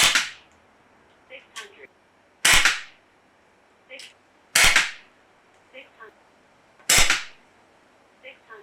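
An Umarex Notos PCP air rifle fires pellets in a backyard, with four sharp, loud cracks spaced about two seconds apart. Each shot is followed by faint clicks and brief murmurs of speech.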